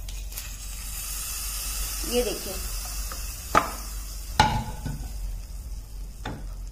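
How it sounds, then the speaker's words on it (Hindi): Hot tempering poured into coconut chutney gives a soft sizzle and hiss, followed by a few sharp spoon clinks as it is stirred, while someone briefly speaks. "ये छौंक डाल देंगे हम इसमें"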